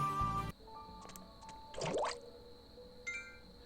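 Water being gathered in the video game Atelier Sophie: a short liquid squish and gurgle with a drip, framed by brief game chime tones and music.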